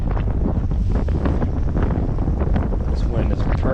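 Gusty wind on the water during winter bass fishing rumbles and thumps against the microphone throughout, loud and close, with a voice faintly mixed in beneath the buffeting.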